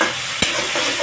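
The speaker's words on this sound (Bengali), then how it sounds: "তেলের উপরে ভুনা করে নেবেন।" Ginger-garlic paste blended for a beef and potato kebab masala sizzles steadily in hot oil, with a single sharp scrape of a spoon stirring the pan partway through.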